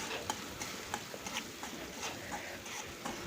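Spoon stirring ground masala paste with curry leaves in hot oil in a kadhai for Maharashtrian patodi rassa bhaji, a soft steady scraping and light sizzle with faint repeated clinks against the pan.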